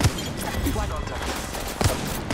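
Apex Legends gunfire: a rapid fusillade of sharp shots, with loud bursts at the start and again near the end and a busy crackle in between, plus faint game voices mixed underneath.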